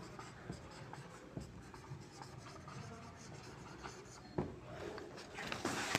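A pen scratches across paper in short, irregular strokes, faint and close, as sentences are written down by hand in a quiet room with no talking.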